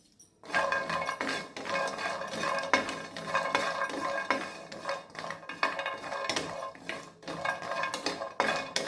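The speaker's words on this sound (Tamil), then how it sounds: "இதையும் ஒரு ரெண்டு நிமிஷத்துக்கு நல்லா வறுத்து எடுத்துக்கலாம் காசியம்" Cashews roasting in a pan, stirred continuously with a spoon scraping and clinking against the metal under a steady light sizzle, close and moderately loud throughout with no speech.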